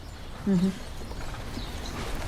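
A horse makes a short burst of hoof clopping, a brief thud against quiet background ambience.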